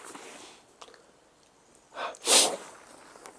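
A stifled sneeze bursts out, short and muffled, preceded by a quick sharp intake of breath, with no talking around it.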